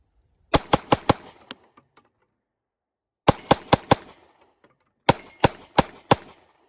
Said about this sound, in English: let's just do a quick burn down and see how fast I can shoot this thing